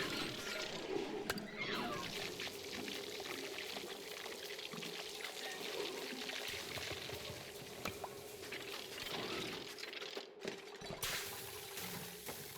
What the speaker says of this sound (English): So this is what it looks like when they remove gunk.